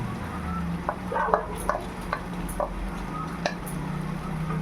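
Spinach-cashew paste stirred into chicken curry in a pan, a soft steady bubbling sizzle with several light, close spatula clicks.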